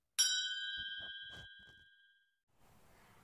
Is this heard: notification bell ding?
yes